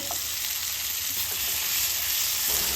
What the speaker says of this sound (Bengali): এপাশে আমি একটা প্যানের মধ্যে পেঁয়াজ ক্যাপসিকামগুলোকে সটে করে নেব